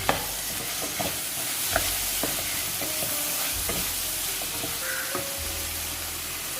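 Tomato pieces are sautéed with onions in a pan for turkey berry thokku, a steady sizzle and fry broken by scrapes and knocks of the stirring spoon.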